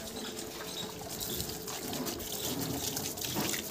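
Water splashes and trickles steadily, a continuous wet pouring sound close by with faint background noise.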